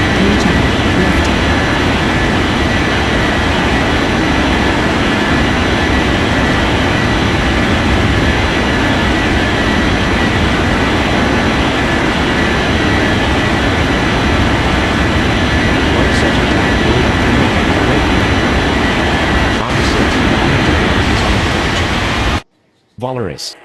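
An airliner's engines roar steadily in an air traffic control game as it takes off from runway 32 left, a loud, dense, continuous rumble that runs almost to the end before cutting out.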